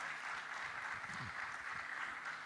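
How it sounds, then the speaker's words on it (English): At the opening of a G20 digital innovation network event, an audience applauds its panelists with a steady, soft wash of clapping that sounds distant and continuous and has no voices over it. "Please give a hands of applause to all our panelists."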